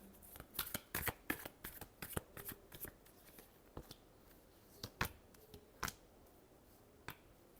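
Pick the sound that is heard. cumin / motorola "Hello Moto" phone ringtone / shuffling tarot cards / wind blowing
shuffling tarot cards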